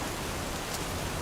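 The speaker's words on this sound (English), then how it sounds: "and that rain is loud." Steady, loud rain pours down in the video game Big Ambitions, a dense continuous hiss with no breaks and no talking over it.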